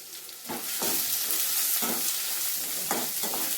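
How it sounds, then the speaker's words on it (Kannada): Onions and green chillies frying in oil in a pan for sabudana upma, with a steady loud sizzle and a few scraping stirs of a spoon, no voices. "ಎಣ್ಣೆ ಒಳಗೆ ಸ್ವಲ್ಪ ಬಾಡೋಂಗ ನೀವು ಕೈ ಆಡಿಸ್ಕೊತಾ ಇರಿ."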